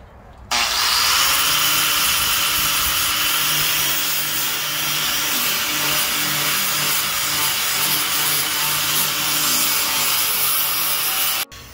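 An angle grinder smoothing burrs and surface rust off painted metal fabrication, a steady loud grinding whine that runs continuously for about eleven seconds with no talk.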